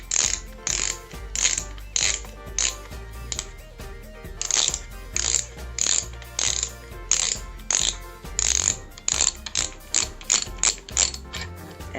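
Fishing reel cap being unscrewed counterclockwise, giving quick bursts of crisp ratcheting clicks in repeated short runs with brief pauses between, close and fairly quiet, no talk.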